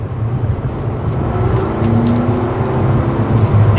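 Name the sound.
Mercedes C63S AMG engine revving on test drive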